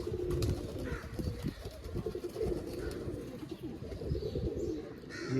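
Pigeons of the Ferozpuri cross breed, including a young bird on its first flight, fill a steady stretch of cooing and soft calls, with faint wing flutters mixed in near and loud, and no talking.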